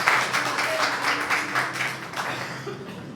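A church congregation claps in praise for a few seconds, a moderate, steady patter of many hands at middling distance with some voices underneath.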